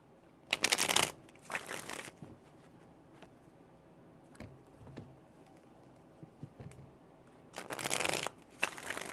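Tarot cards being shuffled in a few brisk bursts, each a quick riffling flutter, with quiet pauses and small taps in between.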